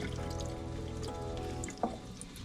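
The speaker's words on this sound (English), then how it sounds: "we're gonna rinse it off with cold water" Cold water runs steadily over canned corn in a colander with a low rushing gurgle, then stops, followed by a few light drips and clatters.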